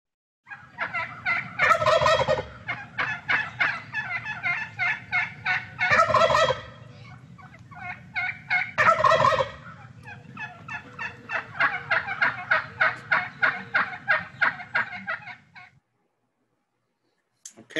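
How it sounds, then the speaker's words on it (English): A wild turkey tom gobbles in loud rattling bursts while a hen clucks in quick repeated yelps, the calls alternating in a close, clear exchange before falling silent. "The female is on the left, you'll hear her kind of cluck. And then the tom, which is a gobbler or a tom, will gobble"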